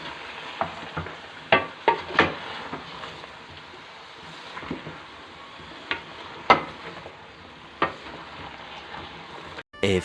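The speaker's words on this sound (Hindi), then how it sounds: "अब इसके अंदर हम जो टिंडे हमने लेके रखे हुए हैं वो हम डालेंगे और इसको थोड़ा सा भूनेंगे" Tinda (round gourd) being sautéed in a pot for a desi curry, giving a soft continuous sizzle broken by irregular scraping stirs and clinks throughout, close and fairly quiet, with no talking.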